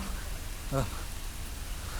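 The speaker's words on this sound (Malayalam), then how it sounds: "പുറത്ത് നല്ല മഴ" Heavy rain falls outside during a horror film scene, a steady low hiss throughout with one brief voice-like sound near the middle.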